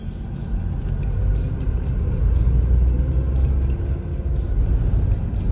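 A car driving along a road, recorded from inside the cabin: a steady low engine and tyre rumble that holds fairly loud throughout, with no voices.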